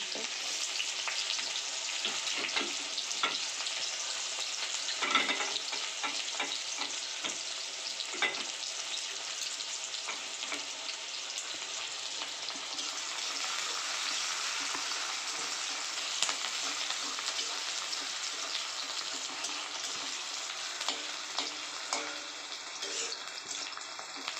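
Cumin seeds and chopped onion fry in hot oil with a steady, dense sizzle throughout, broken by occasional stirring clinks and scrapes; a voice speaks faintly at times underneath.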